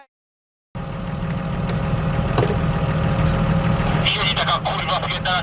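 A tractor engine idles steadily and fairly loudly, close by in a farm setting, a continuous low rumble that starts after a brief silence, with some rattling and mechanical noise later.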